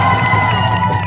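A crowd at an outdoor ceremony cheers and shouts, a loud, sustained wash of voices with whoops and light applause mixed in, close and continuous throughout.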